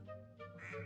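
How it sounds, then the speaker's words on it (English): Cartoonish ducks quack in a video game, a short run of nasal honking calls rising and brightening toward the end, fairly close and clear, with no talk over them. "Ducks!"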